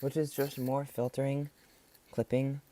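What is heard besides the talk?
No everyday noises stand out.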